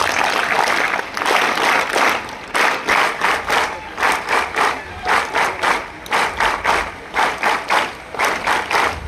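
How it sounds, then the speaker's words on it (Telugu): Students at a Sri Saraswati College sports week event clap loudly to welcome the chairman onto the stage, first a dense burst of applause, then a crowd clapping in unison with strong, evenly spaced beats that continue to the end. "ఒకసారి స్టూడెంట్స్ అందరూ కూడా గట్టిగా క్లాప్స్ తోటి సార్ని ఇన్వైట్ చేయాలి."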